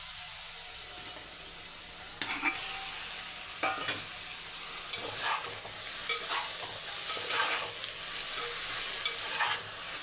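Chicken pieces sizzling in curry masala in a pot, a broad steady hiss with occasional scraping stirs as the meat is turned, close and continuous with no voices.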